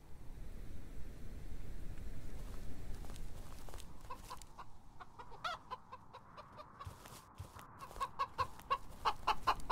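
Video game chickens cluck in a horror-style chicken game, a run of short repeated clucks and squawks that grows busier toward the end over a low rumbling background.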